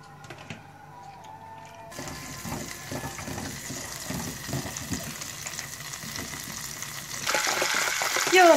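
Butter, two tablespoons, melting in a small coffee pot on a stovetop, giving a steady soft sizzle and crackle that grows louder and busier toward the end, with faint clinks early on.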